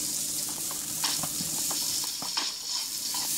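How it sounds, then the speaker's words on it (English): Leftover vegetables are half-cooked in vegetable oil previously used to fry fish, giving a soft steady sizzle with light stirring clicks and scrapes throughout. "Kailangan lang po natin ma-half cook ang natirang vegetable."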